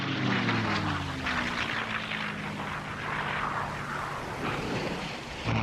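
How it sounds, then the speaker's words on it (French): Old American WWII bombers drone past flying low, a loud, steady propeller-engine roar with shifting pitch that fills the whole stretch without any talking. "des bombardiers américains obscurcissent l'horizon"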